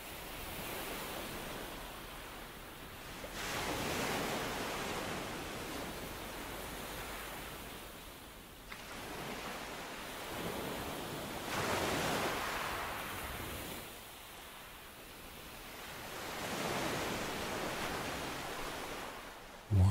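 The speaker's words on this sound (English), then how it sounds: "Let yourself become one with the gentle curl of the waves" Ocean waves roll onto a shore in slow, regular swells, each surge rising and washing out over a steady hiss of surf, with a faint breeze in the background.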